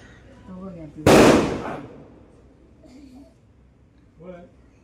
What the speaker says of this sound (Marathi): कोण वाजवतो फटाके